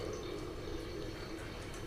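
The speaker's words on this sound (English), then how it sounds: "It's pouring water." Water pouring steadily, a continuous close liquid rush with a low gurgle and small drips, without talk.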